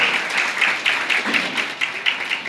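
Loud applause from a Ramanandi Sadhu Samaj gathering for Shri Ramanandacharya Jayanti, a close burst of brisk clapping with uneven rhythm and periodic swells, heard on its own.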